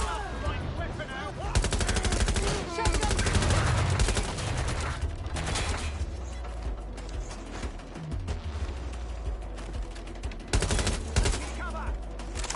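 Heavy automatic gunfire in the video game Watch Dogs Legion, with dense rattling bursts and scattered single shots running loud and continuous throughout, while a voice talks intermittently underneath.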